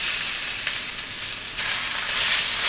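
Canned corned beef frying in a pan with aromatics and vegetables, a steady loud sizzle that swells slightly partway through, with no talking.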